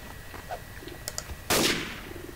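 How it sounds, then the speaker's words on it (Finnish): Gunfire in the video game Garry's Mod: a few faint clicks and small pops, then one loud, sharp shot that rings out and fades quickly. "Mä ammutaan vaan Roopelle"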